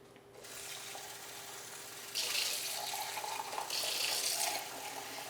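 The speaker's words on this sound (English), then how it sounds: "you do want to drain them and rinse them. So we'll get that into the sink." Drained red kidney beans rinsed under a kitchen sink tap: a steady hiss of running water that grows louder and splashier in two bursts as the beans are moved under the stream, with no talking.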